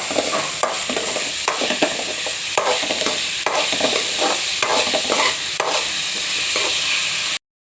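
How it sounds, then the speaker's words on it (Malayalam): Chopped onions and salt sautéing in a pan: a loud, continuous sizzle broken by repeated rhythmic scrapes of a spatula stirring, close up, stopping abruptly at the end. "നമുക്കിതാ ഉള്ളി ഇട്ട് കൊടുക്കാം ഇതിൻ്റെ കൂടെ തന്നെ നമുക്ക് കുറച്ച് ഉപ്പും കൂടി ഇട്ട് കൊടുക്കാം വഴണ്ടി വരാൻ എന്നിട്ടിത് നന്നായിട്ടങ്ങ് വഴറ്റിയെടുക്കാം"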